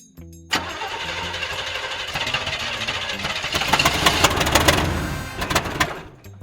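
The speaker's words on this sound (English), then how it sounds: "She tried again, but it still wouldn't start." An engine turns over and churns roughly without catching, the grinding attempt running steadily for several seconds before a few sharp knocks near the end.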